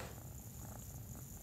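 A kitten purrs while lying on a person's neck, a close, steady low rumble that stays quiet and continuous with no voices.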